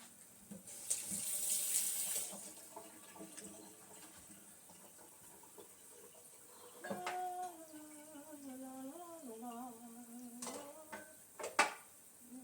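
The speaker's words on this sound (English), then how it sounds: "So we'll wash this tomato off real quick." A tomato is rinsed under a running kitchen tap, water hissing into the sink in bursts with close splashes and a few handling knocks, fairly quiet.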